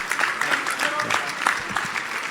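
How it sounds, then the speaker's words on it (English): Applause from an audience at a Rotary community service event, a dense patter of many hands clapping at moderate distance that sustains evenly for a couple of seconds. "Big round of applause."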